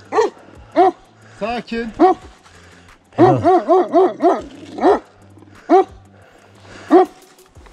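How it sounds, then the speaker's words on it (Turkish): Guard dogs protecting an outdoor area near a cave on a cycling route, barking in loud, close, repeated bursts, some in rapid runs and others single, while someone speaks calmly between them. "doğal dostlarımız olan köpekler alan koruması yapıyor"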